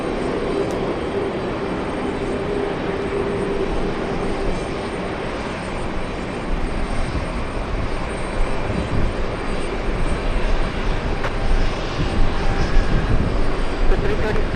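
An airliner turning on a taxiway at JFK gives off a constant engine rumble and hiss that grows a bit louder in the second half, with radio voices talking over it.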